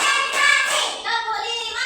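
A class of young children in a primary school claps together in a quick counting rhythm, a dense burst of many small hands close by with a brief pause before the clapping resumes.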